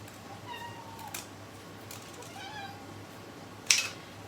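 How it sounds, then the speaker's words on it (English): A cat meowing indoors in a small home kitchen during cooking, several faint drawn-out meows at a distance followed by a sharper, brief cry, with no talking over it. "The cat is still meowing."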